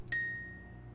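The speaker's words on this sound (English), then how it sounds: "Muted bell." Single muted bell ding in the Riven adventure game: a short soft strike with a clear ringing tone that fades quietly over under a second.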